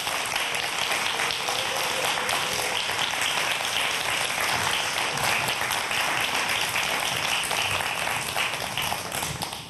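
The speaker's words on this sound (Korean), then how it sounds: "박수로 맞아주시기 바랍니다" An audience at a televised science lecture applauds to welcome the speaker, a loud, sustained, dense clatter of many hands that holds steady for nearly ten seconds with no talking.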